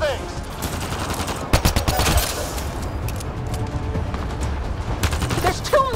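Rapid gunfire in the video game Mass Effect Andromeda, a continuous rattle of shots with a few louder bursts during a hectic firefight.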